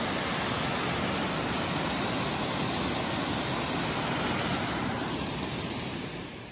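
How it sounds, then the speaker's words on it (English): A waterfall on an Appalachian Trail section near lakes roars as a dense, steady broadband rush that fills the whole stretch, loud and close, easing slightly at the very end with no voices over it. "Oh, this looks cool. Waterfall."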